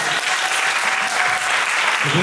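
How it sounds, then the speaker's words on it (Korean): Dense, loud applause from a festival audience at a university campus event, a continuous close burst of clapping with a voice briefly audible at the end. "박수 한번 주세요, 여러분."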